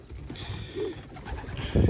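Pigeons coo softly at close range with a low murmuring call over a rustling, noisy background, and a louder flutter comes at the end.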